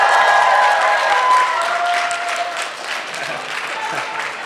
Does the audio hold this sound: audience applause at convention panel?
yes